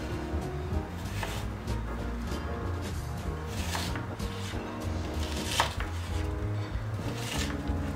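Knife dicing half a small onion into squares on a board, with steady chopping taps over constant background music.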